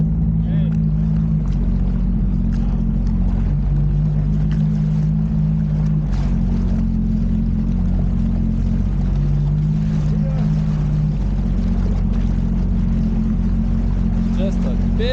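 Motorboat engines idle and rumble in a large backup of boats on the waterway from Chicago to Joliet, a steady low drone throughout with wind and water noise.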